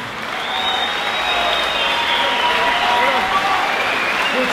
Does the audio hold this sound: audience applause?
yes